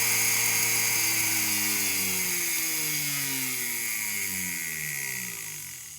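Brushed-motor power carving tool running at full speed on a speed controller, a loud close whine with a slight shifting pitch that holds steady for several seconds before easing slightly at the end.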